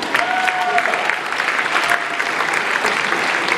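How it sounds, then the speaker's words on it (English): Steady, loud applause from an audience at a J.J. Pearce High School basketball ceremony honoring top players, a continuous dense clapping with no break. "Let's hear it for Matt Holland"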